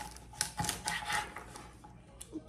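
A knife chopping the tough ends off asparagus on a cutting board, a few quick close clicks and taps in a short burst.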